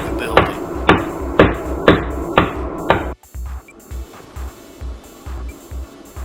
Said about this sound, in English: I had to cut, chisel, dig and bash a hole out of the back of the building.